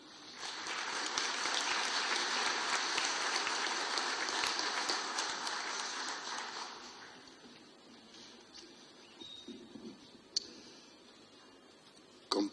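Strong applause from an audience at a book presentation greets a guest, Bolivia's labour minister, with dense clapping for about seven seconds that fades out, leaving a quiet room with a few scattered knocks.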